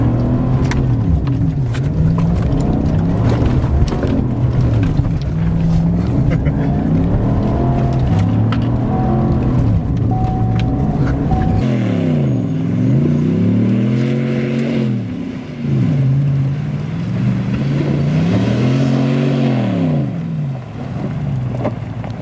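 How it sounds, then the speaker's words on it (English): Chevrolet Silverado pickup truck with failing brakes doing donuts, its engine revving loudly in repeated rising and falling surges, close and powerful, with wind buffeting the microphone. "So I think a couple donuts are in order."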